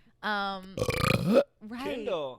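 A person lets out a long, loud burp lasting nearly a second, set between short bursts of close, casual speech and laughter.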